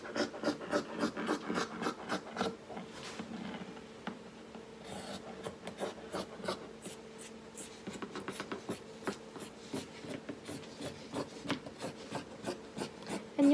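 Scissors or a rotary cutter slicing through fabric pieces for a maxi skirt pattern, a series of close rhythmic crisp snips and scraping strokes on a table, steady and fairly quiet, no talking.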